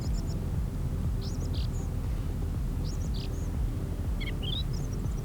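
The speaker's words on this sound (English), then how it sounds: "when I stop talking, you just hear the birds chirping" A few birds chirp in short high bursts outdoors near a rural home outside Seattle, faint and scattered over a steady low background hum, with no one talking.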